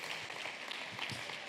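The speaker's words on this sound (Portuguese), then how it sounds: "Aplausos pelo papel do pastor." Audience applauding a pastor at an inaugural class of a mission theology school, a brief burst of many hands clapping, dense and steady.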